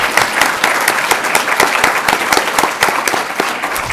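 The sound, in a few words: audience applause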